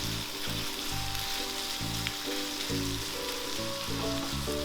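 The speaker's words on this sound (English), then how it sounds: "you allow it to saute in the oil first before you add in the seasoning" Empanada filling sautés in hot oil with a constant hiss, partly covered by loud background music.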